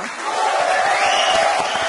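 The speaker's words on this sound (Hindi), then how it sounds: "तो इसी दादी के लिए जोरदार तालियां।" A large studio audience at The Kapil Sharma Show applauds and cheers loudly and steadily, a dense wash of clapping with shouts mixed in throughout.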